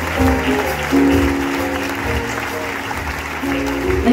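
Audience applause at a big band concert in Alcalá honoring the band's arranger, a steady clapping wash over a sustained band chord, with voices mixed in.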